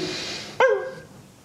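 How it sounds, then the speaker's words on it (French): A single sharp dog bark sounds close and loud in an indoor room, rising out of a quiet background hum and fading quickly. "On fait taire le chien"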